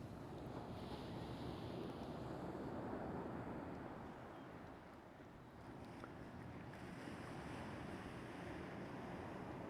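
Ocean waves at Pacifica, south of San Francisco, roar as a continuous broadband wash of surf mixed with wind buffeting the microphone, dipping briefly midway before swelling again.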